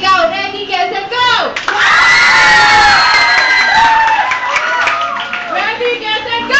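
Children in a school classroom at a Family Day game clap and shout together in a loud, sustained burst of cheering that swells after a brief lull and carries on to the end.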